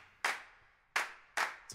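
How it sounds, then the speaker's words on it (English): Sharp hand claps in a Rio Grooves percussion groove, three crisp claps in an uneven rhythm with a fourth starting at the end, close and clear over near silence. "the blue area is all the clapping."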